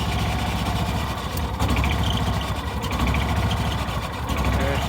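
A derelict John Deere Gator utility vehicle's engine idles steadily while warming up, a continuous close, loud rumble with slight surging and no voices over it.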